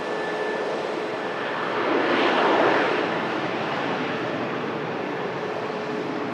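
An Airbus A350 airliner at Manchester Airport passes at a distance, a broad steady jet roar that swells gently to a peak midway and then eases back into a constant background rumble, with no voices.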